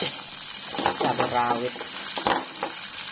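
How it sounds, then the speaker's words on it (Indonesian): Bird's eye chili peppers fry in a pan with a steady sizzling hiss, while a voice talks over the cooking. "Sekarang aku mau goreng"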